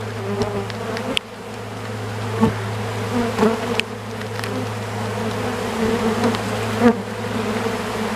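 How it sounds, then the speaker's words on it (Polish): Honeybees crowded between the frames of an open hive, a dense steady hum with a low drone throughout, close and continuous, dotted with faint knocks and clicks from the frames. "pszczół dużo między ramkami"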